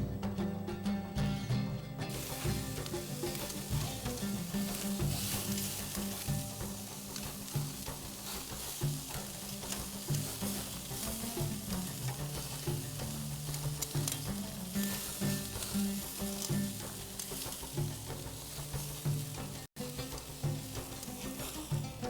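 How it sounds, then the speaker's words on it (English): Kabob sizzling on a grill gives a loud, continuous crackle and hiss with small popping fluctuations, running steadily the whole time without any voices. "we'll cover the grill and let it cook for 2 to 3 more minutes until it's done cooking on the other side"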